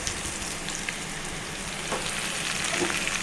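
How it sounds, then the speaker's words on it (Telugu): Curry leaves hit a hot pan of softening green chillies for Telugu chana dal curry, giving a steady, close, broadband sizzle with a slight swell toward the end and no talk. "కొంచెం మగ్గాలండి నిమిషము మగ్గాలి కరివేపాకు వేసుకోవాలండి"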